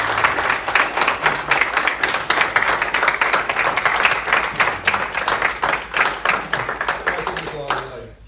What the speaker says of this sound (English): Keep applauding.